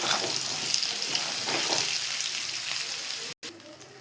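Spices sizzle and fry steadily in a hot pan with browned paneer for a curry, a close, continuous crackling hiss with a brief cut near the end.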